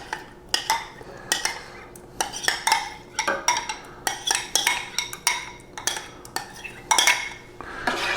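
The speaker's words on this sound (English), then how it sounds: "Stir this up just a little bit, get it going." A spoon stirs ketchup- and molasses-based barbecue sauce in a pot, producing a close series of irregular metallic clinks and scrapes against the pot with no talk.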